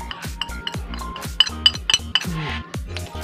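Metal utensils scrape and clack against a pan as fried eggplant sticks are tossed with pepper, a close run of sharp irregular clinks and knocks with a few ringing taps.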